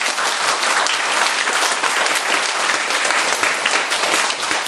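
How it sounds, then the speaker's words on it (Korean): A church congregation claps together in dense, loud, sustained applause, filling the room evenly from start to finish. "수고하신다고 박수를 한번 쳐주세요."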